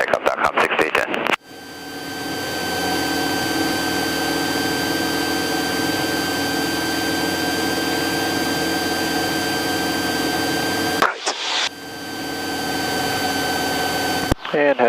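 A small airplane engine on a takeoff run from runway 17 right, flying from Las Vegas toward the Grand Canyon, gives a steady, droning roar with a tonal whine, heard from inside the cabin; radio voices break in briefly at the start and near the end.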